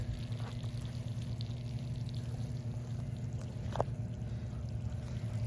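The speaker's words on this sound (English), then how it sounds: "See the water running So on both sides?" Water runs through a new garden watering system with a quiet, steady trickling flow and one faint knock, heard alone at low level.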